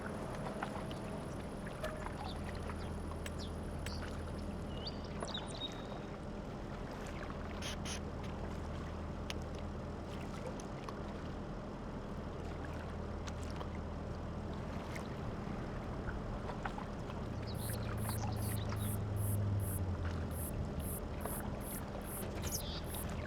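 Solid fertilizer pours into a machine in a farming video game, a steady low rushing fill sound running continuously beneath a faint hum, with small mechanical clicks and a brief beeping pattern toward the end.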